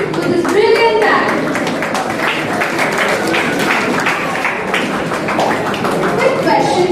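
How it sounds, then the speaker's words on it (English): An audience claps for a school team's performance, producing steady, dense applause that fills the space from start to finish with no gaps. "A huge round of applause for the team with this brilliant act."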